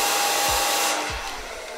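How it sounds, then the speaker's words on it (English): Hair dryer blowing on its cool setting, a steady close airy whoosh with a thin whine that briefly shifts as the airflow moves, fading slightly toward the end. "you can use your hairdryer, and if it has a cool button, like mine does, you can hit the cool button"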